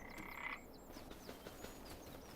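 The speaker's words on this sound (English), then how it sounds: "I heard our frogs." Frogs croaking in the farming video game Farming Simulator 25, a faint series of short chirping croaks, with a steady tone at the start, quiet and distant with no speech.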